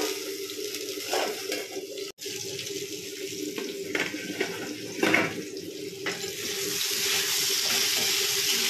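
Hot water poured into a pan of potatoes tempered with black cumin, salt and turmeric, a steady rushing splash that swells and lingers, with light clatter of utensils underneath.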